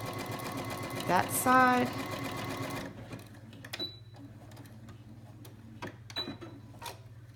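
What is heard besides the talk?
sewing machine back stitching a washable sanitary pad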